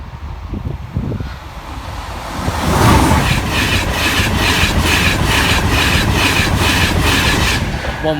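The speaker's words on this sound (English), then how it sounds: "the 11:56 LNAR service from Peterborough to Retford" An LNER passenger train runs through a level crossing at Barnby; after a quieter start a loud, steady rumble builds and carries on, with faint rhythmic clatter from the wheels on the rails.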